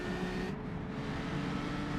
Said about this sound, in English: Nice little rumble as he hit the throttle coming out of the hairpin there too